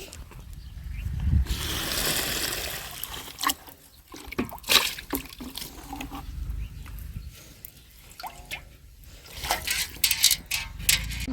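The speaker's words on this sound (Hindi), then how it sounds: "तो अभी मैं दोबारा वहाँ पे पानी भरने जा रही हूँ।" Water trickles and splashes as a container is refilled outdoors in a village after dirty water is emptied, close and uneven, with bursts of pouring and dripping.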